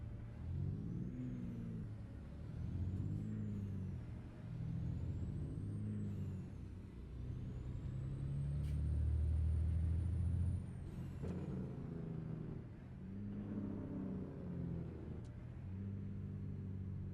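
Truck engine rumbling in the Trucking Empire video game, revving in uneven surges with a loud hissing air brake release partway through, steady and close with no talking.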